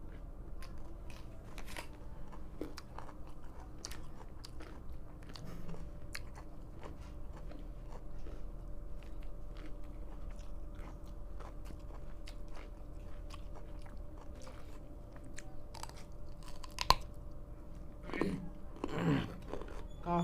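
Raw carrots crunched and chewed during a carrot-eating competition, with faint, irregular crisp bites and chewing clicks scattered over a quiet background and a few sharper crunches near the end.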